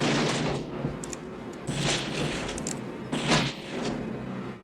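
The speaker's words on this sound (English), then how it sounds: "the Kid steeled himself and opened fire" Gunfire rings out in a Clint Eastwood western, several loud booming shots spaced apart with echoing tails over a rough background.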